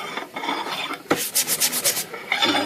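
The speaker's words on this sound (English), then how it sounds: "wash it with Simple Green and scrub it with a stiff brush" A stiff brush scrubs the front rail of an Underwood 5 typewriter washed with Simple Green, making close, rhythmic rasping strokes that come in quick bursts with brief pauses.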